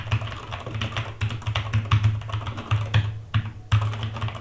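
Rapid typing on a Cosmicbyte Themis mechanical gaming keyboard with crisp, clacky keystrokes in an irregular rhythm, close up and fairly loud, with no voices.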